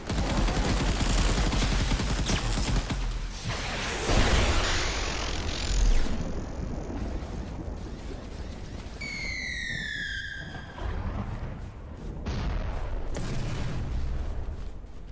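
Explosions and gunfire-like blasts in an Unreal Engine game scene, a loud continuous barrage of booms and crackling debris with rising whistling tones partway through, dense and close with no talking.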